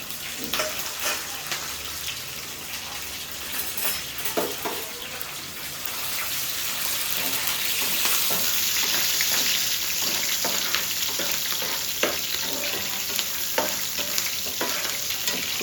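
Onions and green chillies fry with curry leaves in a pan, giving a dense, crackling sizzle that swells louder partway through, with scattered spatter pops and no talking.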